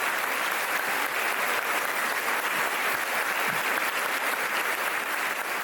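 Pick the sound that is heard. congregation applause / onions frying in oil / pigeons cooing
congregation applause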